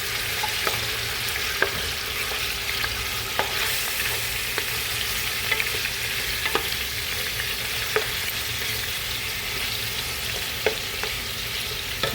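Rib meat frying in a pan, browning until reddened: a steady, close crackling sizzle with small sharp pops scattered throughout, continuous and without any talk.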